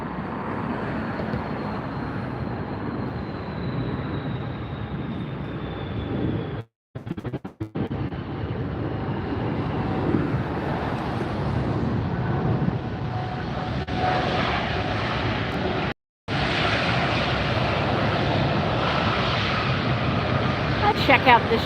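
Aer Lingus Airbus A330-300 airliner at Los Angeles Airport, a steady jet engine roar at moderate distance lasting throughout, broken by two brief dropouts, with people talking over it.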